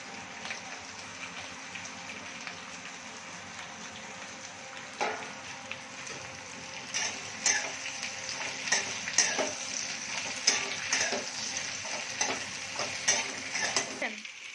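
Capsicum and onion fry together in a hot pan, making a continuous sizzle that builds louder midway, with frequent scraping stir strokes and spatula clinks close by.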